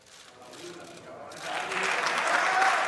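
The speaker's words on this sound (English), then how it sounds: "A big ovation." A stadium crowd at Camp Nou gives applause for Kun Agüero's presentation as a Barça player: a distant, hushed murmur swells into broad, sustained clapping and cheering from the stands, growing louder toward the end.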